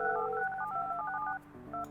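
A telephone dialing in the building-management game Project Highrise gives a quick run of clean electronic touch-tone beeps at moderate level, a short gap, then a couple more tones near the end.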